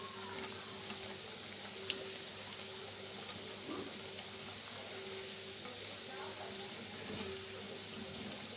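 Ringo biscuits fry in a pan of oil with a steady, soft sizzle throughout, broken by a few faint clicks and light stirring sounds, with no talk.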